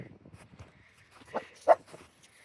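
A dog outdoors gives a couple of short, sharp yips or barks near the end after faint scuffling and quiet vocal sounds, fairly close and brief, with no talking over it.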